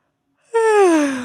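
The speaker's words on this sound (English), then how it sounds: "Big yawn, really feel your cheeks and your jaw muscles stretch out." One big human yawn, starting abruptly and sliding slowly downward in pitch as it trails off, close and fairly loud, heard alone.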